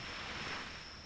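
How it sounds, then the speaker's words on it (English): Ambient ocean waves wash steadily in a hunting video game, a soft, continuous surf hiss with a faint wind-like rush and no speech. "the ambient wave sounds are so loud that it makes my usual methods of just listening for what I'm hunting completely"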